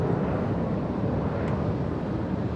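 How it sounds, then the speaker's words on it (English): A Boeing 787 Dreamliner airliner lands on the north side of LAX, giving a steady, loud broadband roar with wind-like rumble and no distinct events. "We have on the Pone a 787 Dreamliner landing in the north side"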